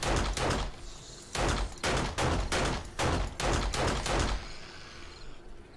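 Rapid bursts of automatic gunfire from a standard gun in the video game 7 Days to Die during a horde night, several loud clustered volleys in quick succession with brief gaps, heard alone.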